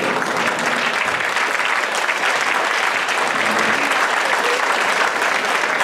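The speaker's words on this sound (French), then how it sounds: "il faut applaudir le nouveau président." Loud, sustained applause from a large audience greeting the new president at a celebration, a dense roar of clapping that stays steady and close throughout with faint crowd noise beneath.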